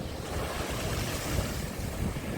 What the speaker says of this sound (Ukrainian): Хочу хвилі зняти.